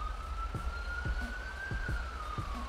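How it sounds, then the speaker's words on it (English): A police siren from the video game GTA 5 wails in a long, steady rising-and-falling tone at moderate distance, over a low rumble of traffic and soft thumping noises. "I'm hearing a siren."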